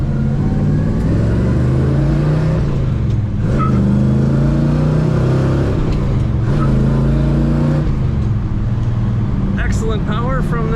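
A 1970 Chevrolet Chevelle with a four-speed manual revs its engine in a loud, continuous rumble with rising and falling pitch, heard close up with some background noise.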